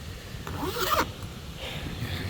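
A zipper pouch inside a motorcycle top box for a KTM 390 Adventure is unzipped in one quick, close rasping pull, followed by soft handling rustle.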